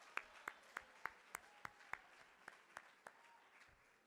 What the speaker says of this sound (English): Let's give Mr. Bassett Hassan another round of applause.